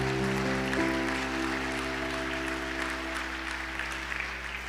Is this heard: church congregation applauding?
yes